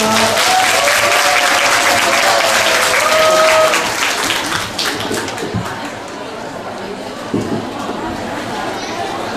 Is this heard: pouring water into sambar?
no